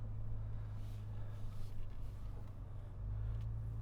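A 2025 Lexus GX 550 Overtrail+ engine drones low and steady while climbing a hard off-road line, a constant close rumble with slight swells in load and no talking.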